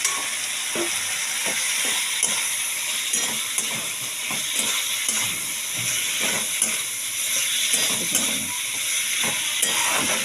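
Fish heads fry in hot oil with spices in a pan, a steady bright sizzle and hiss punctuated by sharp crackles and occasional stirring clatter, close and continuous without speech.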